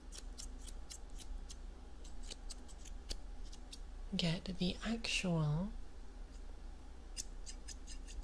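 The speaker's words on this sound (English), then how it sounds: "I'll try to layer it up with vertical cuts" Layering scissors snip hair with vertical cuts in a close, quiet haircut setting, crisp irregular clicks scattered throughout, with soft whispered speech in the middle.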